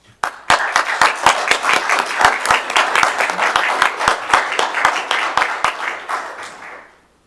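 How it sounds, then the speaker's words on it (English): An audience at a county meeting applauds, a dense burst of clapping that starts suddenly, holds steady for several seconds, then fades away. "give a nice round of applause for that"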